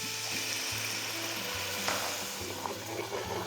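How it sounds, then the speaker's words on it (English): Pinot Grigio white wine hits a hot pan to deglaze it for Tuscan chicken, making a steady soft sizzle with faint stirring and scraping noises throughout. "next we're gonna deglaze the pan with 2/3 cup of white wine"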